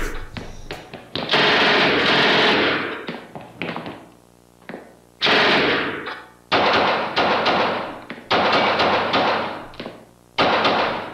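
Machine gun fire in a FNAF-themed police VHS-style video comes as loud, close bursts of rapid shots, several long volleys separated by short pauses and single sharp cracks.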